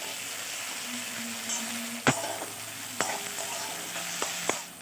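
Chopped tomatoes hit lightly browned onions in a pan, raising a close sizzle, with several sharp spatula knocks against the pan and a steady frying hiss between them.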